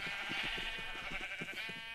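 Minecraft sheep bleating, a run of short repeated game bleats in quick succession, clear and fairly loud.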